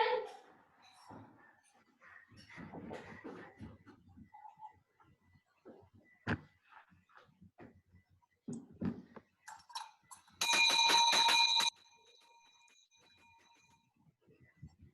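A handbell rung at the start of a church service streamed remotely, a burst of bright, sustained metallic ringing lasting about a second, loud and clear after scattered room noises and brief speech.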